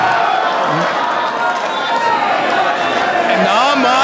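A crowd at a live professional wrestling show roars and cheers in a continuous loud wash of voices, sustained across the whole moment, with chatter mixed into the noise.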